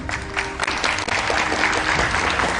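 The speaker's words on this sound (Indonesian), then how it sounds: "Tepuk tangan untuk semua narasumber saya pada malam hari ini." A studio audience at an evening political talk show claps steadily, dense applause filling the room for a few seconds without letting up.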